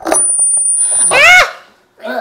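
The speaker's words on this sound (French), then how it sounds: "t'imagines s'ils entendent la caisse enregistreuse?" A cash register sound plays from a recording and rings out briefly in the middle, with a sustained high tone above it and people talking around it.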